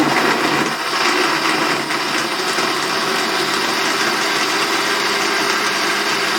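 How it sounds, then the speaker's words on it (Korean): A blender grinds vegetables with plenty of broth, running continuously with a steady loud whirring drone from start to end. "국물을 넉넉하게 넣어서 믹서기에 갈아줘요."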